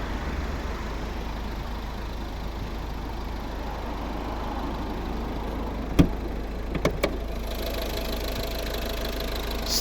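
A 2011 Volvo V50 with a PSA 1.6 D2 eight-valve diesel of 115 horsepower idles steadily close by, a continuous low rumble with a faint diesel clatter, broken near the end by a few sharp clicks.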